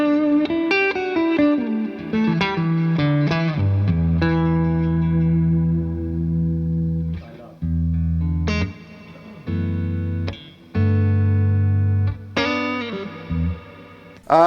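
Electric guitar through amp reverb and a Mr. Black Supermoon reverb pedal, with sustained chords and single notes that swell and ring out in long, washy tails, broken by brief pauses, all played alone without talk.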